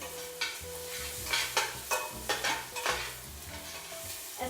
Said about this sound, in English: Make sure to mix.